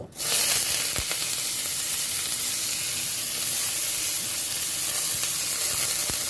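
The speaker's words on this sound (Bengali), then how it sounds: "এবার কেটে রাখা পেঁয়াজগুলো দিয়ে দেব।" Chopped onions drop into hot oil already holding dry red chillies, setting off a loud, continuous close sizzle that holds steady throughout with faint crackle.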